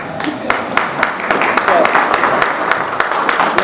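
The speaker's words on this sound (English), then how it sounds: "We're clapping for Oleana" An audience at a candidate forum applauds steadily, with a few sharper individual claps standing out and voices mixed in beneath the clapping.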